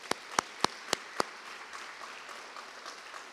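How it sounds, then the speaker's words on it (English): At a memorial and community awards ceremony, applause for scholarship benefactors begins as five sharp, evenly spaced claps close by, then thins into faint, scattered patter from the room. "Let's please give them a round of applause."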